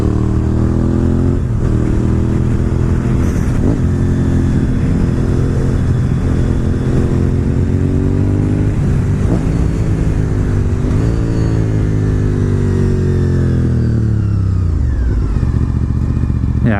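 Honda RC51 VTR1000 SP2 V-twin sport motorcycle ridden on the road, its engine revving and dropping through gears with a throaty, continuous drone close to the rider, no talk over it.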